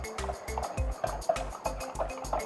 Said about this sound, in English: I am doing this with a whisk to ensure there are no lumps